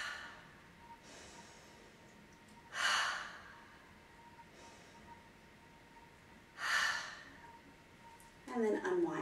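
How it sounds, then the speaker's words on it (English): Slow, deliberate breaths during a daily energy routine, drawn in through the nose and let out through the mouth, two soft airy swells a few seconds apart, quiet and close, with a faint steady tone underneath. "Breathe in through the nose, out through the mouth"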